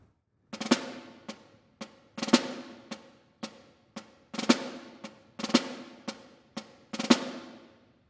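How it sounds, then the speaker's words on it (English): A snare drum plays four-stroke ruffs at a slow, deliberate pace, each buzzing cluster of quick strokes ending in a sharp accent, repeated about a dozen times with short silences between, close and dry. "I'm going to get it at my kind of performance interpretation of the 4-stroke ruffs."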